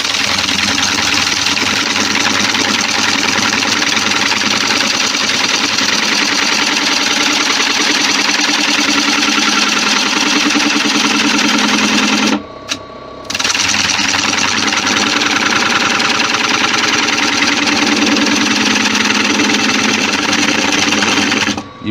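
A gouge on a wood lathe hollows a spalted sycamore bowl, making a loud, continuous rough scraping roar over the spinning machine. One brief pause breaks it midway, and then the cutting carries on steadily.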